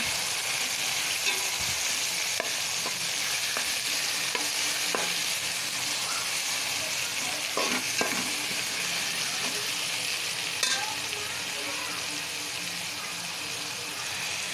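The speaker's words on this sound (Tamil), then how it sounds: "தக்காளி சேர்த்துக்கிடுவோம். அதையும் நல்லா வதக்கிடுவோம்." Tomatoes sauté in a pan with a steady, close sizzle, while a utensil stirs and scrapes through them in scattered knocks and taps.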